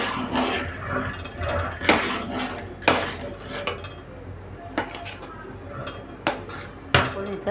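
A spoon clinks and scrapes against a pot of milk brought to a boil on a gas stove, slowed to low flame for thandai; sharp metallic knocks recur every second or so over a low kitchen hum.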